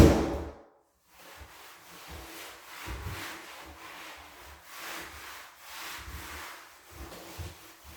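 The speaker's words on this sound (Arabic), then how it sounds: "وانا نتفكر الباب نضرب ليه واحد المسحه خفيفه وصافي" A cloth rubs lightly across a door during room cleaning, giving soft, uneven swishing strokes that come and go over several seconds, close up and with no voices.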